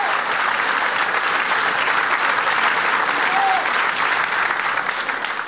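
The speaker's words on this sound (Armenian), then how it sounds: "Արկեստրա ձեր բարձր, բարձր, բարձր ծափահարությունները" An audience applauds an orchestra at a women's club event, a dense, sustained burst of clapping that stays loud and even throughout, close and enveloping.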